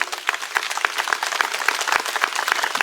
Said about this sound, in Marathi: एकदा जोरदार टाळी वाजून अभिनंदन करा राजांचं